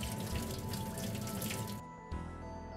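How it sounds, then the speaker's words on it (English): Hot boiled water pours over atsuage fried tofu to rinse off the oil, a steady splashing stream close by that cuts off briefly near the end before a lighter trickle resumes. "Pour the hot boiled water on atsuage to remove the excess oil."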